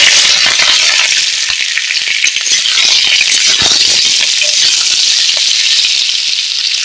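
Steady, loud sizzling of boiled potatoes frying in hot oil with five-spice seasoning, with small rattles and scrapes throughout and no talking.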